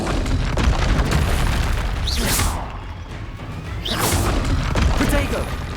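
Confringo spell blasts in Hogwarts Legacy land as heavy booming explosions with crashing debris, two stronger bursts standing out amid continuous loud combat noise, with voices speaking throughout.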